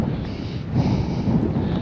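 Strong wind buffets a coastal cliff path on the South West Coast Path, a loud steady roar that swells midway and keeps blowing with no voices.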